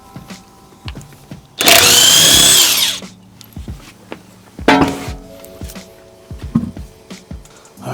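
Power tool spinning off 21 mm lug nuts on a third-generation Toyota 4Runner during front brake work, one loud sustained whirring burst followed by a shorter second one, with clanks and handling noises between.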